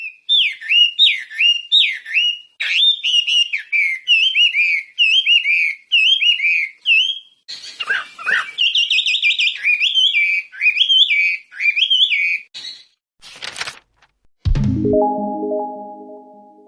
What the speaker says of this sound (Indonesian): Huamei pernah merajai arena kontes dan termasuk burung elit atau burung kelas atas